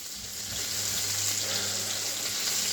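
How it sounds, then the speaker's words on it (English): Pancetta sizzles and fries steadily in a pan for spaghetti carbonara, a dense close crackle that holds at an even level throughout with a low hum underneath. "I'm frying the bacon, otherwise known as pancetta."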